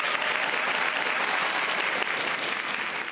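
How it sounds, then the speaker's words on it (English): Loud, dense audience applause, an even wall of clapping that stays steady for about three seconds without a break. "Big applause."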